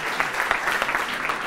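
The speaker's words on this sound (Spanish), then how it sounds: "Un fuerte aplauso para Cristina" A short burst of audience applause at a maths and music talk, a dense even patter of clapping hands without voices.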